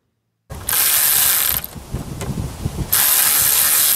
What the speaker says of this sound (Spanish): el tornillo de este lado aquí del ventilador está dando vuelta y vuelta y me está costando sacarlo